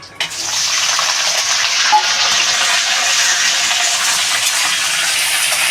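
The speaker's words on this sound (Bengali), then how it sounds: "এবার বন্ধুরা এই যে গাজর আর পেঁপেটা ভেজে নেব" Carrot and papaya pieces fry in hot oil in a pan for shukto, a loud, dense, continuous sizzle that starts abruptly and holds steady throughout, close up with no talk.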